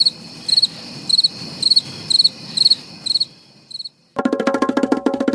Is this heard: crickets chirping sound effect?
yes